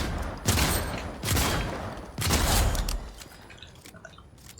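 Pistol fire in Fortnite Chapter 4: a few loud, close, separate shots, roughly one every second, each with a sharp crack and a short fading tail, with no talking over them.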